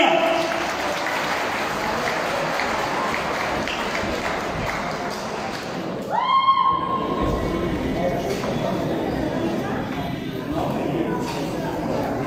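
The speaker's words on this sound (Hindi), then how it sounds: "बच्चों की हौसला अफजाई के लिए भरपूर तालियां" An audience claps for children taking the stage at a school quiz programme, a broad steady patter throughout, with a brief bright whistle-like burst partway through.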